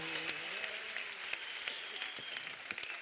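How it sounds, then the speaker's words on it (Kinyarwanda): A church congregation claps in praise, a soft, even patter of many hands with a few sharper claps standing out, heard from a distance. "Komera Imana amashyi menshi."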